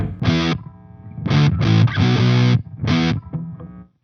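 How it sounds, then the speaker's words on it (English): Fuzz-drenched electric guitar played through spring reverb: loud, distorted chord bursts in short stabs, each trailing a brief reverb tail, with no voices. "Add some spring reverb to your fuzz, and you get a very interesting sound because it's fuzzy, but there's a tail to it."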